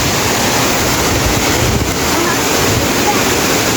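Waterfall at Bunga Falls pouring over rocks into a pool, a steady broadband rush of falling water that fills the whole clip without pause.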